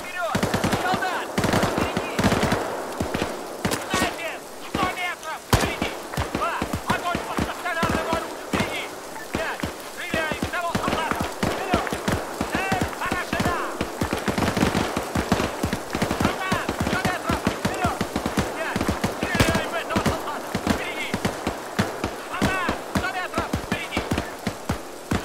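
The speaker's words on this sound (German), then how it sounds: "Пулемет." Machine-gun fire in the ArmA 3 military shooter: long, rapid bursts of loud automatic shots hammer almost without pause, with brief gaps between volleys.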